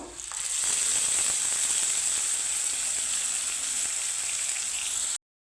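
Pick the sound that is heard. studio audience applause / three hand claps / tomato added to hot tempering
tomato added to hot tempering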